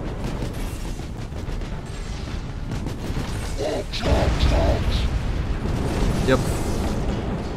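Ork mega cannon fire in Battlefleet Gothic Armada, deep booming blasts rumbling under a brief spoken word, with a heavier surge of explosive impacts midway and mechanical clanks in the mix.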